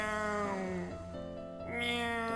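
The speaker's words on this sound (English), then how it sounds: "based on that, it's a cat" A cat in the video game Will: A Wonderful World meows in drawn-out, wavering cries over a steady musical background, faint and continuous.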